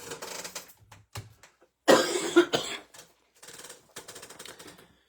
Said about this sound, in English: the cough isn't all the time, but man, it's like, it's deep down there when it is